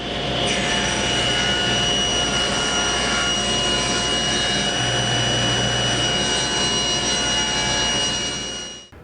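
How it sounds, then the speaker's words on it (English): Table saw ripping wood boards to width for a chisel cabinet: a loud, steady motor whine with a hissing blade cut running continuously, then stopping at the end, no speech. "I'm just going to go over the table saw and rip these to"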